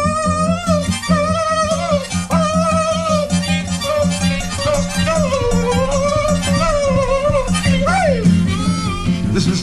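A harmonica imitates a little dog, giving yelping, whooping bends and wailing cries over steady rhythmic chords in a blues studio performance. The playing is loud and continuous.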